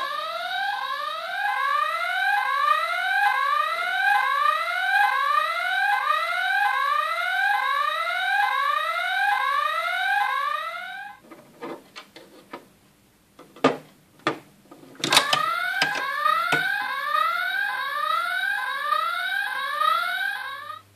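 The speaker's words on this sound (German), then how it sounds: "Und wenn jetzt versucht der Dieb zu entkommen, geht sofort der Alarm los." A Playmobil 5176 toy police station alarm sounds a rapid repeating electronic siren chirp, steady and loud, breaks off into a few clicks and knocks, then starts up again.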